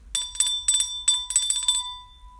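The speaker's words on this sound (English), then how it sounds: "I gotta ring the bell for this one" A small bell, like a bicycle-style ringer, is rung in quick bright bursts of several dings, close and clear, with a lingering metallic ring at the end and no voices.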